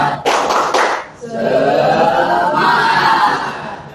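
Indonesian middle school students in a lab clap together in a spirited tepuk semangat rhythm, a quick burst of claps followed by a sustained chorus of cheering voices and chuckles.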